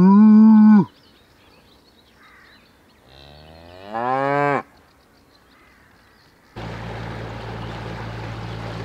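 Cattle mooing on a rural walking trail, a few long drawn-out lowing calls that rise in pitch, loud and close, followed by a steady rushing background noise.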